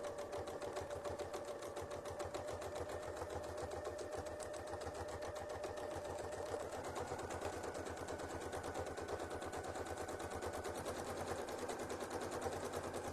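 A sewing machine stitches free-motion quilted feathers, running in a fast, even mechanical rattle of needle strokes that stays steady and close for the whole stretch, with no talking over it.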